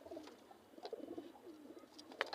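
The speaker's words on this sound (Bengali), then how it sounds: "এই যে একটা ডানা ভাঙ্গা কবুতর" A pigeon with a broken wing coos softly a few times in a quiet setting, faint and fairly close, with small rustles between the calls.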